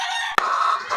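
A gamefowl rooster at a gamefarm lets out a loud, close crow, a single sustained call that rings out strongly and holds steady.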